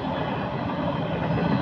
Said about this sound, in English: so you can get a good view of the freight train going